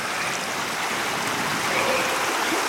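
A powerful river in Alaska rushes steadily past, a loud, continuous wash of churning water with no voices.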